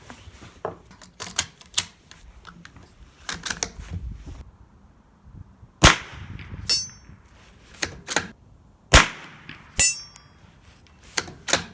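Ruger Precision Rimfire .22LR rifle fired outdoors at long range, a few sharp, isolated cracks spaced seconds apart among lighter mechanical clicks of loading and bolt handling.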